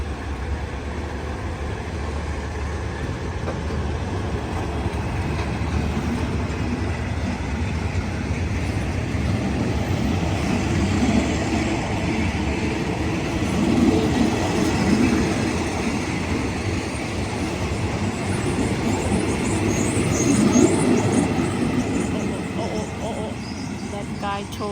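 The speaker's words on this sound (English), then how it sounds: "And here goes the train." Northbound SRT passenger train passing at Lamae, Chumphon, Thailand, a steady loud rolling rumble with wheel clatter and faint squeal that swells and peaks near the middle and again toward the end, under light background talk.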